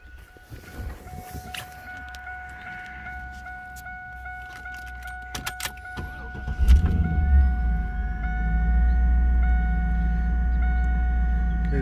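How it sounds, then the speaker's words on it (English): A 1998 Pontiac Trans Am WS6, a low-mileage factory-stock car, first sounds its door chimes and gives a few clicks. The engine then cranks and catches with a loud burst and settles into a steady, rumbling idle close by. "I'll give you a start up on this one."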